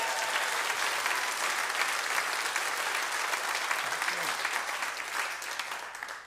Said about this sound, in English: Mr. Ben Graham on bass, give him a round of applause.